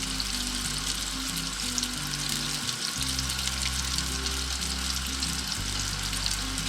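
Sicilian cuzzole dough pieces frying in hot oil, a steady dense sizzle and crackle throughout with a low hum beneath, no voices.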